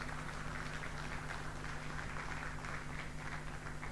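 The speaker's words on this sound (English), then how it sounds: "Let's have a huge round of applause for him." An audience at an annual awards night giving a round of applause: a steady, dense wash of clapping heard at some distance, unbroken for the whole stretch, with a faint low hum beneath.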